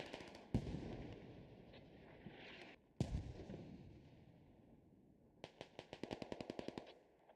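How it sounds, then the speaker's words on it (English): Mortar explosions in the video game Squad land as sharp, heavy booms with long rumbling tails, followed by a rapid rattling burst of gunfire, all fairly distant and without speech. "Nice mortars on the backside right here."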